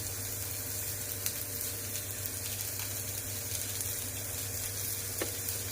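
Onions and tamarind sauté in a pan for a Tirunelveli sodhi kulambu, giving a steady, close, dense sizzle with small crackles and no voices throughout.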